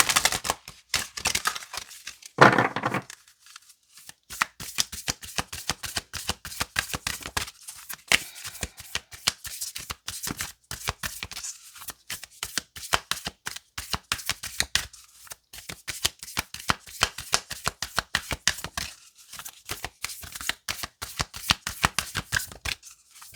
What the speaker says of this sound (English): let me just shuffle it again